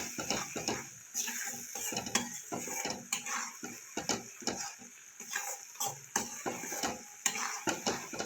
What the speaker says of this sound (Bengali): এই মশলাটা ভালো করে আমি কষিয়ে নেব।